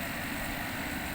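A portable air conditioner's internal water-slinging motor runs steadily, a continuous whirring hum with a wet churning texture, close and even throughout with no voices.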